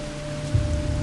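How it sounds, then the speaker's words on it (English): Steady rain in a video game hisses continuously with a soft low rumble, a brief constant wash of falling water. "I love the rain outside. It's nice."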